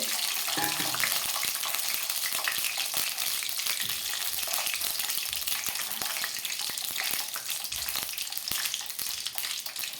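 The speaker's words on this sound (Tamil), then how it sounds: "கருவேப்பிலை போட்டு நல்லா வணக்கணும் பாருங்கள் எண்ணெய் நிறையா ஊற்றணும்" Curry leaves fry in plenty of oil for a curry leaf pickle, along with fenugreek, dried red chillies and garlic. Dense crackling and popping sizzle runs throughout, loud and close, with sharp spits breaking through the hiss.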